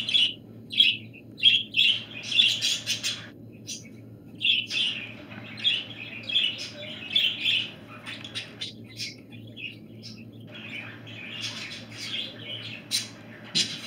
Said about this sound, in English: You crazy birds!